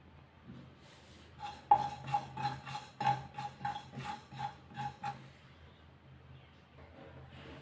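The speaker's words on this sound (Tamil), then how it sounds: "1 டீஸ்பூன் சீரகம் வறுத்து எடுத்துக்கலாம்." A teaspoon of cumin seeds roasting in a pan over a low flame while being made into a spicy chilli chutney, with a quick run of rhythmic scraping and stirring strokes, moderately close, that tails off into quieter rustling.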